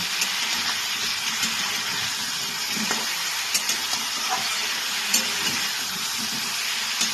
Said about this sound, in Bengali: মশলাটা দিয়ে আমি একটু ভেজে নেব